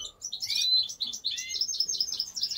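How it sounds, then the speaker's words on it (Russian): A European goldfinch sings nearby, a lively run of bright twittering chirps and tweets repeated rapidly without pause, fairly clear over a quiet background. "Щегол там поет вовсю."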